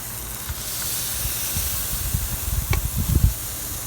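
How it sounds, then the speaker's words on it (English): Sticky BBQ ribs hissing loudly on a hot grill after being flipped, a dense steady sizzle close up, with a few dull knocks and bumps of the meat and tools toward the end. "Let's go ahead and flip them."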